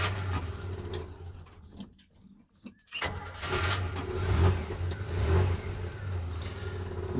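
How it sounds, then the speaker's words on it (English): A 1984 Chevrolet S10 pickup engine cranks and catches, then settles into a steady, low rumbling idle close by, with a slight exhaust leak. "Let's go ahead and start it up."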